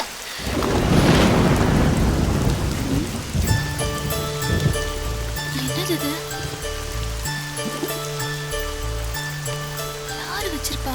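Heavy rain and a rolling thunder rumble from a storm scene in a Tamil comedy film, loudest in the first few seconds, then continuing under a music score with occasional voices.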